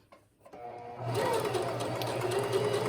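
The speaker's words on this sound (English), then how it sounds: "So sew forward, add your back stitch" A sewing machine stitching tiny darts on a fabric zipper pouch, starting after a brief quiet moment and then running steadily and close at a rapid, even whir for the rest of the clip.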